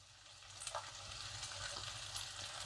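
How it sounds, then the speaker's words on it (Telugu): Chopped onions sizzle in a pan with green chillies and curry leaves, a steady, fairly quiet frying crackle with occasional stirring scrapes and no talking. "ఆనియన్ కూడా లైట్గా వేగడం స్టార్ట్ అయింది"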